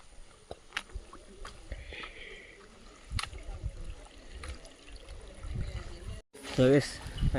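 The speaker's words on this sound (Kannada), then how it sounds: "ನೋಡಿ ಎಷ್ಟಾಗಲ್ಲ ಇದೆ ನೀರು ಹರಿತಾ ಇದೆ" Water trickles and flows gently near a 19th-century temple, a soft low rush heard under footsteps and handling noise, with a louder splashing burst near the end.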